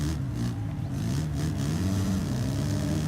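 A motocross bike engine revs and drones steadily in the MXGP3 video game on the Maggiora track in the MX2 class, a continuous mid-pitched engine tone with slight rising and falling pitch, no speech heard.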